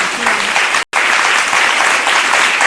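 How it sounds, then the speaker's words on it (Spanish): Loud, dense applause from an audience after a doctor's testimony in Peru, a continuous wash of clapping with one very brief dropout. "un aplauso muy grande para la doctora"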